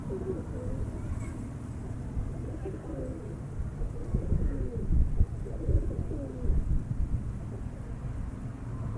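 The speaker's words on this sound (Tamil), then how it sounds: "பார்க்குறது பறவை புறா மாதிரி தான் இருக்குது" Pigeons coo in a loft during evening feeding time, low soft cooing phrases repeating near the microphone over steady background noise, with no talking.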